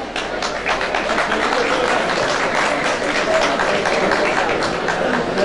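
Sustained applause from the audience at a Turkish folk poets' festival at a dergah foundation, a steady, fairly loud wash of clapping for over five seconds with faint voices mixed in.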